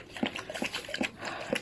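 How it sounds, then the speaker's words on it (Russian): A very large, injured dog of about 40 kilograms makes short, close grunting and whining sounds in an uneven rhythm, with soft breathy noise between them. "Очень большой пес."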